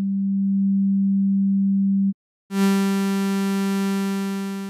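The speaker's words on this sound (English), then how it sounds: "The oscillator loads with a sine wave which you then modify to taste using the cursor." Pure sine wave tone from the Odin 2 software synth oscillator, steady for about two seconds, then after a short gap it returns brighter with a buzzy stack of added harmonics.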